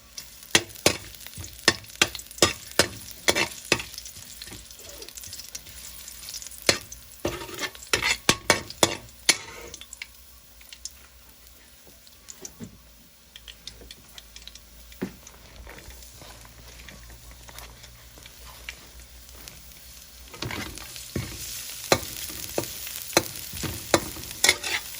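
Aromatics for pork blood stew sizzle and crackle in a hot pan, with repeated sharp scraping and stirring clatter that fades briefly before picking up again.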